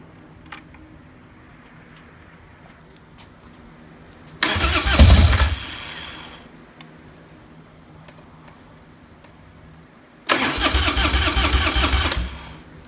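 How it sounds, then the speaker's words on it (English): Starter cranking on a Harley-Davidson FXDL Dyna motorcycle fitted with a BikeMaster MS12-20L-BS battery, two loud bursts of several seconds each separated by quiet, the engine churning without catching. "Crank's fine if I can get it to start."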